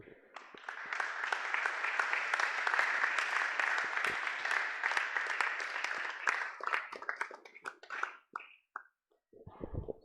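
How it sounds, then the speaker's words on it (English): Applause at a youth talk show on the Sexual Offences Act swells quickly and holds as a full, steady wash of clapping, then thins into scattered individual claps before a voice begins at the very end. "Let's give Senior Council another round of applause."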